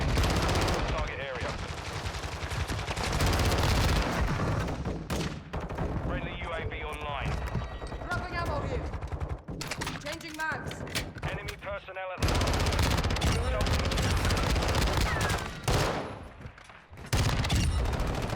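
Rapid pistol gunfire in Modern Warfare 2 cracks out in dense bursts alongside other battle noise, loud and close, with voices talking over the shooting throughout.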